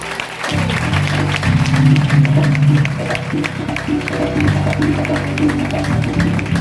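Congregation at a Christmas 2022 church training seminar applauding and cheering in acclaim, a steady loud wash of clapping with sustained tonal music or organ underneath throughout.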